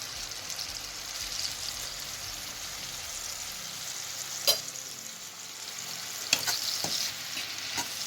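Whole mushrooms with a little lemon sizzle and fry in a pan, a steady soft hiss broken by a few clicks and clacks of stirring.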